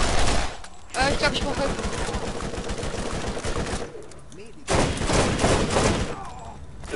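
Rapid bursts of gunfire in the Borderlands video game, dense and continuous with brief gaps, loud and close, while a voice speaks over it.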